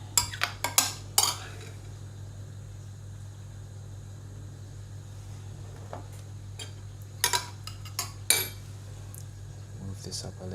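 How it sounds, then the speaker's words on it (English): Cassava chips stirred in a pan, giving short bursts of clattering scrapes and knocks near the start and again near the end over a steady low hum, with quiet gaps between. "Just stir it like that"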